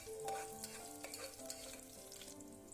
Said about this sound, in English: Now saute it well until the onions are nice golden brown.